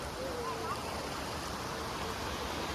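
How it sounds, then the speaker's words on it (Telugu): Chaparai waterfall pours in a steady, dense rush of flowing water that fills the background without a break, with faint voices of the crowd in the distance. "వాటర్ ఫాల్స్ అంటే ఇదేనమాట."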